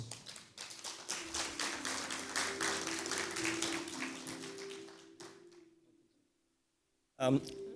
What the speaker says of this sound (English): With a resounding round of applause, please welcome Dr. Taimur Baig to deliver his special address.